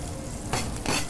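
Carp frying in a pan, a loud close sizzle that swells twice briefly as the oil is stirred.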